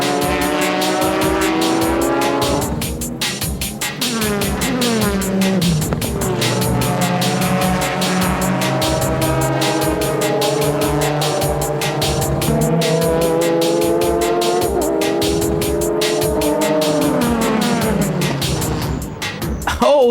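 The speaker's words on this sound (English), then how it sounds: "Oh, the Motul Z spins out of control on the corner as it contacts a Denso Supra." Racing Nissan Z and Toyota Supra GT cars in a 2004 JGTC race, with loud, continuous engine roar that rises and falls in pitch through gear changes and a squeal of tires as a car spins in a corner.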